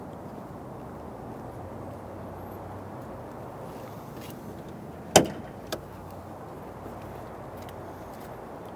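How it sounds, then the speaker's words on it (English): Hood release of a grey 2018 Shelby Super Snake gives one sharp metallic pop followed by a smaller click, close and brief against a faint background hum. "That was the sound of the hood being popped open."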